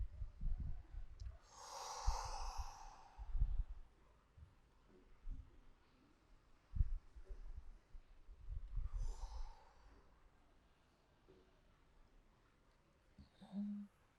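Slow deep breaths during a morning vinyasa yoga practice, a few long airy inhales and exhales spaced several seconds apart, faint and close, with quiet low thumps between them.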